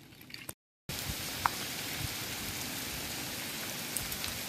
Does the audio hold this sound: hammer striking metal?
no